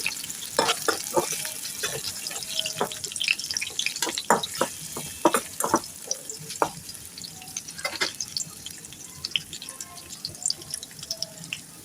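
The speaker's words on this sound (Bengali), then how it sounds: "আমি এখানে হাঁড়িতে কিছু তেল দিয়েছি এখন পেঁয়াজ কুচি দিয়ে দিলাম" Chopped onions sizzle in hot oil in a cooking pot, a steady crackling fry dotted with sharp pops and spatters throughout, close and fairly loud.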